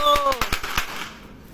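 Fireworks going off on a Hari Raya night in a Malaysian village, a rapid burst of sharp cracks and pops over about a second, close and loud, with a voice rising over the first bangs.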